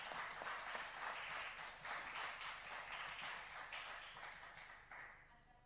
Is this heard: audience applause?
yes